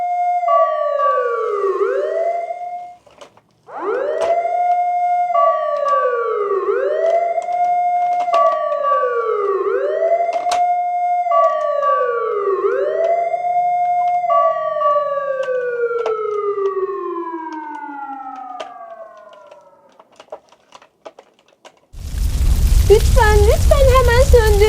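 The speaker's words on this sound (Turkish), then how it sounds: "Ah sonunda itfaiye geliyor." A loud wailing fire engine siren sweeps up and down repeatedly, then shifts to a steady falling tone before fading, followed by a burst of noise.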